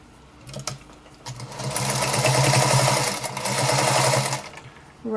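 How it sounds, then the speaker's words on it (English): A sewing machine stitches around the folded edge of fabric cut from an old pair of pants, sewn into a small drawstring bag. After a brief pause its motor whirs in one steady, close run for about three seconds, then stops. "Let's come over to the sewing machine."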